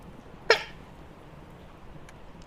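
A woman sneezes once, a sharp loud burst near the microphone, followed by quiet room noise and a couple of faint clicks.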